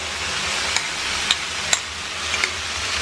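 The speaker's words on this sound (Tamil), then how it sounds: "போட்டு நல்லா வதக்கிக்கோங்க." Onion, tomato and garlic sautéing in a pan, a continuous crackling sizzle with a few sharp spoon-against-pan clicks scattered through, no talking.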